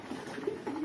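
Racing pigeons give a soft, low coo, with a few gentle rising notes in quick succession close by.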